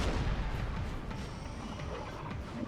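Booming 8-pounder cannon shots in Napoleon Total War, several heavy artillery blasts overlapping into a rumbling barrage with crackling impacts, loud and continuous.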